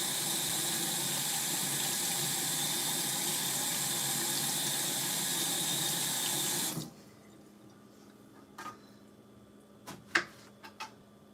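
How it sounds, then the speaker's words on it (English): An apple is rinsed under a running kitchen tap, with a steady loud rush of water that cuts off abruptly partway through, followed by a few faint knocks and handling sounds. "so let's wash off another apple."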